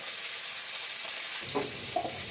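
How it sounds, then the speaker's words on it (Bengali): Fish heads fry in a pan with a soft, steady sizzle that thickens partway through, a few brief spits and crackles rising near the end. "চলো, মাছের মাথা ভাজা হোক"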